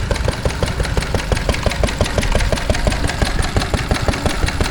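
An RA Lister stationary engine runs at a spring fair in Laughton, Sussex, firing in a fast, even chugging beat that stays loud and close throughout, with no voices.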